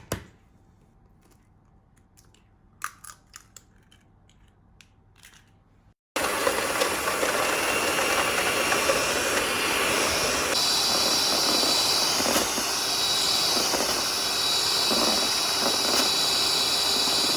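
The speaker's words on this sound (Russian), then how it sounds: "3 яйца отправляю в чашу миксера, взбиваю на малых, затем на средних оборотах" A stand mixer whisks three eggs in its bowl. After a few quiet seconds with faint clinks, the motor kicks in with a loud, steady whirring drone, and its pitch shifts upward partway through as the speed rises.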